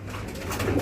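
Racing pigeons coo softly in a loft, a low continuous burbling murmur from several birds nearby, with no speech over it.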